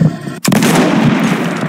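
A sniper rifle shot in a mobile shooting game, a single sharp loud blast followed by a long rumbling echo tail.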